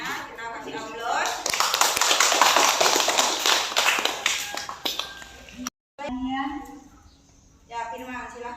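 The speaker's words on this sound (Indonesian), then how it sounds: "Kita kasih aplaus." Classroom applause during a performance assessment session: a sustained burst of clapping from a group of students, loud and dense for several seconds, then cutting off abruptly, followed by a voice speaking.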